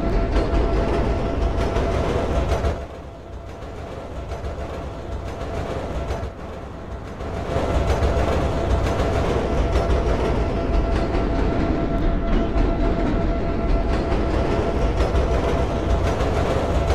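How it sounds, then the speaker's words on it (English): A Chicago L Blue Line train of the 7000 series runs on the Douglas branch in a Roblox game, a loud, continuous rail rumble and hum that briefly eases midway, then swells back to a steady roar. "This is a blue line train to downtown and O'Hare."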